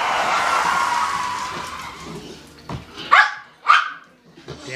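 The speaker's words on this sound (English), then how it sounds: "Damn dogs." Dogs barking: two sharp, fairly close barks in quick succession follow a stretch of broad noise that fades out, with a few softer yips trailing after.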